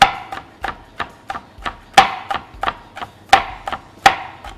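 Bird's eye chilies are sliced with a knife on a cutting board: a quick run of sharp, close taps, around fifteen in a slightly uneven rhythm, with a few harder strikes.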